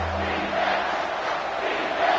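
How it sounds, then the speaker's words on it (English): A stadium crowd in the College Football 25 video game with LSU playing, a broad roar of cheering and yelling that swells and holds steady at a moderate level, with no talking over it. "This crowd knows this defense needs them right now."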